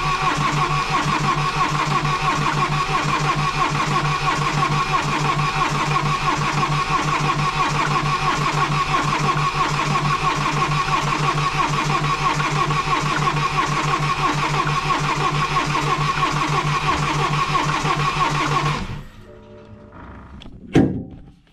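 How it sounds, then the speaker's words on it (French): BMW X3 F25 diesel with a broken timing chain cranking without starting: a long, steady, loud starter whir lasting nearly twenty seconds, then cutting off, followed by a couple of clunks. "Là je ferme la conduite et ça devrait pas tarder à démarrer."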